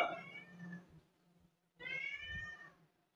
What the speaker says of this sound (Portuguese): Com um gato miando, não vou deixar ele entrar porque ele derruba tudo, rasga tudo.